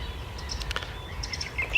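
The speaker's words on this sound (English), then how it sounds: "So we've got a lovely little Jenny Wren up here in the trees," A small wren chirps in trees on a quiet early morning, giving a few faint, thin high calls scattered over a low background hum.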